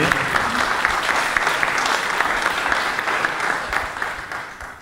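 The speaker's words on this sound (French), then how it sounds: "je crois qu'on peut l'applaudir" An audience at a round-table conference applauds the first deputy mayor of Quimper, a dense, even spread of clapping sustained throughout and tapering slightly at the end.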